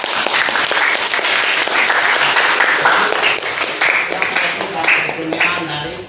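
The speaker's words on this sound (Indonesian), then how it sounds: "Tepuk tangan." A room full of people claps together after a student presentation at a university, a close, full burst of applause that holds steady and then tapers toward the end.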